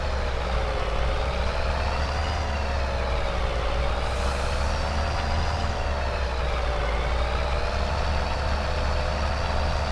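A slow truck in a Tuscany farming video game hauls a tanker, its engine droning steadily and loudly with a low rumble and wavering higher whine throughout, alone with no talk.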